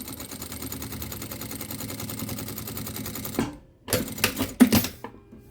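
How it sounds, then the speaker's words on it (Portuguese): A sewing machine fitted with a zipper presser foot stitches quilted fabric with a steady rapid mechanical whirr, then stops, followed by a few short bursts of stitching and clicks. "Pé calcador de zíper pronto. Bora costurar."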